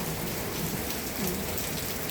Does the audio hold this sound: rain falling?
yes